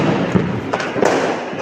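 Firecrackers bursting during Diwali in a smoky housing society, a few dull thuds and pops in a steady noisy crackle of distant explosions.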